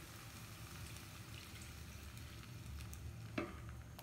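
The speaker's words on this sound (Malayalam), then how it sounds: "ഇതിലോട്ട് നമ്മൾ എടുത്ത് വെച്ചിട്ടുള്ള പാല് ഒന്ന് ഒഴിച്ചു കൊടുക്കുക" Milk is poured into a pot of banana and wheat payasam as it is stirred, giving a faint steady sizzling, bubbling wash with a soft clink near the end. No one speaks.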